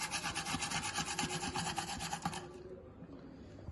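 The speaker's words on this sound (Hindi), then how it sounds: "प्याज और लहसुन को ना अच्छी तरह कद्दूकस कर लेना है" Onion and garlic are rubbed against a kitchen grater in quick, even rasping strokes, close and clear, that stop abruptly after about two and a half seconds.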